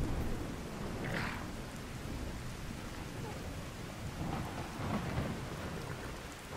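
Steady rain pours in the video game Skyrim as thunder rumbles low and continuous beneath it, with a brief sharper crackle early and another swell near the end, faint and even throughout.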